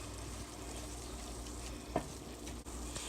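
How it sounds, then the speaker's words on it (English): A mixture of ketchup and apple cider vinegar is stirred briefly in a pan under a steady low sizzle, with one soft utensil scrape near the middle. "Give that a quick stir."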